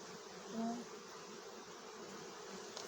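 Honeybees buzz around a hive, a steady, close drone of many wings with one bee swelling louder as it passes near, no talking.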